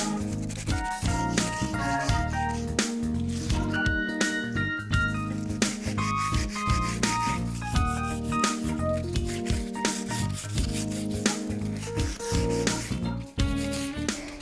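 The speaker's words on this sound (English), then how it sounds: "when you're sanding, if you make sure you sand the edges of whatever the piece of furniture is that you're doing" Sandpaper rubbed by hand over the edges of a piece of furniture being prepared for chalk paint, heard as steady rhythmic scraping strokes over a continuous tonal background.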